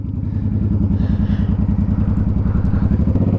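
A motorcycle converted to an automatic clutch pulls away under light throttle, its engine thumping in a rapid, steady pulse close by; the loud, rhythmic low-end chugging continues unbroken, without speech.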